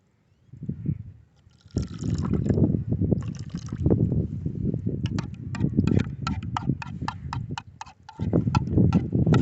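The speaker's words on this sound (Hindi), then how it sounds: "इसमें थोड़ा सा पानी डालेंगे।" Water poured into a bowl of whisked yogurt while preparing a chicken marinade, a steady close splashing pour with clattering taps and drips, no talking.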